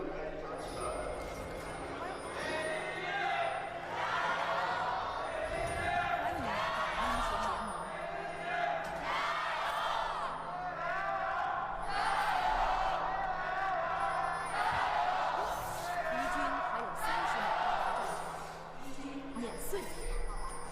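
At an LPL esports playoff match, a live crowd cheers and shouts in repeated swelling bursts across about twenty seconds, a steady arena roar under it, with commentators talking over the top.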